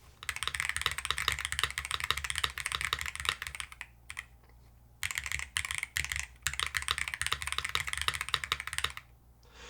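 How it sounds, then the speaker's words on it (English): Bursts of rapid mechanical keyboard clicking and rattling on a Tofu Redux V2 board while its spacebar stabilizer is being modded, with dense clusters of keystrokes and fiddly taps broken by short pauses, close and fairly loud. "I do want to mod this spacebar stab really quickly"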